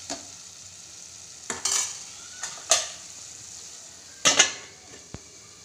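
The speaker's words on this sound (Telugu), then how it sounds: "ఇంగు వేసేసి కలబెట్టేసి మూత పెడితే మగ్గిపోతాయి" Tomatoes with asafoetida stirred in a pan as they cook, a spoon scraping and clanking against the metal in several separate bursts over a low background sizzle, with no talking.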